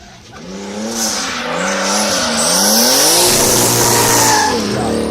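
Drifting race car at a drift competition, tires squealing loudly as the engine revs rise and fall in wavering sweeps, close and sustained with no talk.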